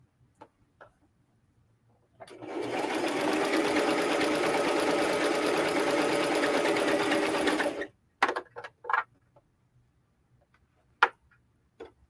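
A sewing machine with a walking foot runs steadily for about five seconds through sweatshirt fabric, with a dense, even whir. A few faint clicks and taps come before it, and sharper handling clicks follow.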